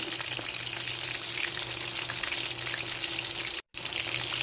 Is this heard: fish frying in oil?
yes